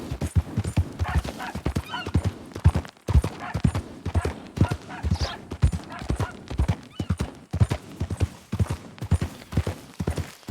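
A horse in Red Dead Redemption 2 gallops with a loud, steady clip-clop of hooves, rapid rhythmic beats running throughout, with an occasional whinny and faint game voices in the background.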